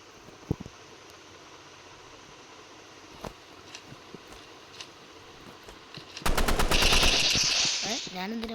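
Video game gunfire opens with a few scattered single shots, then a loud sustained burst of rapid automatic fire that rattles on for about two seconds before tapering off.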